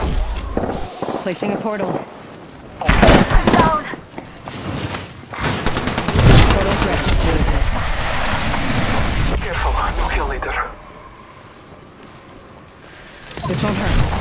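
Gunfire from an Apex Legends firefight comes in loud, dense bursts and booming thuds, rising and falling over about fourteen seconds, with a voice talking across much of it.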